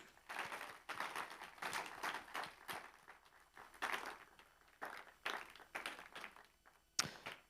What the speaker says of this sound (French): Donc, si vous pouvez les applaudir, s'il vous plaît.